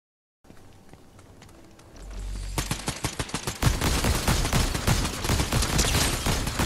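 Gunfire in Fortnite starts with a few scattered shots, then swells into dense, loud rapid bursts that continue to the end with no voices.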